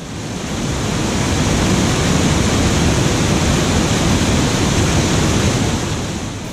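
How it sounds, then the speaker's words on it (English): Water rushes steadily over a river weir at the mill in Sturminster Newton, a loud, close, continuous roar of broadband noise with no voices. "hope you can hear me over the water because I'm right by the weir now"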